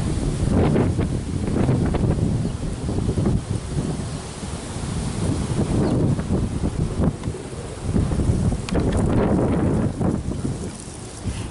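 Strong wind roars and buffets against the microphone outdoors, continuous and loud with gusty surges, no voices heard.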